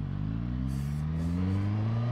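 A Suzuki GSX-S 1000 naked motorcycle engine revs steadily, its strong low harmonic drone climbing slightly in pitch over about two seconds. The engine is close and loud, with no voices.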